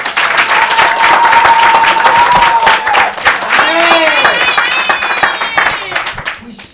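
A crowd claps on request at a political rally, a dense burst of applause under a speaking voice, loud and close, fading toward the end.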